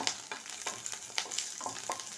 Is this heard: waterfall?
no